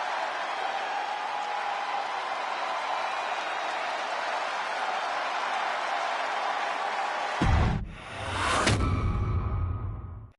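A dense, steady arena crowd roar in Chicago at a wrestling match in the video game WWE 2K26, a continuous wash of cheering that suddenly cuts to a sharp whoosh and bang near the end.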